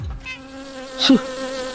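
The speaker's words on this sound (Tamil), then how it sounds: "பூச்சி வண்டு தொல்லையா" A buzzing beetle or similar flying insect drones steadily for under two seconds, close and fairly loud, with a brief swell in the middle as it passes near.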